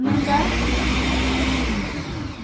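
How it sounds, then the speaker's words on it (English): A countertop blender whirs steadily while blending pineapple juice, a loud continuous motor drone that holds for a couple of seconds. "blender is working now."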